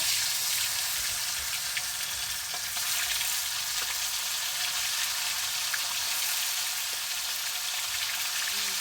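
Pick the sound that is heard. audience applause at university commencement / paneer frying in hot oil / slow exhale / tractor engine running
paneer frying in hot oil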